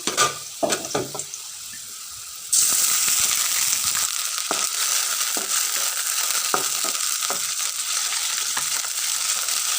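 Water poured into hot oil with fried dried red chillies and spices, setting off a loud, steady sizzle that jumps up suddenly and holds, after a few quieter clinks and crackles, while cooking duck curry.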